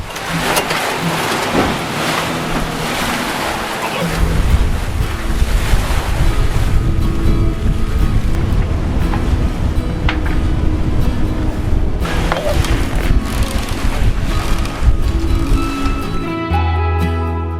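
A sailboat runs through ocean waves off Martinique, with a steady loud rush of surf and hull wash mixed with heavy wind buffeting the microphone, continuous throughout.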